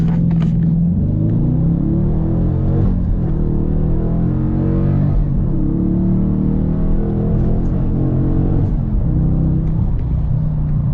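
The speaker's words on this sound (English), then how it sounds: "rode the clutch pretty good in the first gear there" A 1965 Ford Mustang drift car launches in first gear with tires spinning, its engine roaring loud and close with rising and falling revs as the clutch slips.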